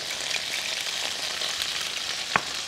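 Okra and potato sabzi frying in a pan gives a steady bright sizzle throughout, with faint stirring scrapes and one short sharp tap near the end, alone without talk.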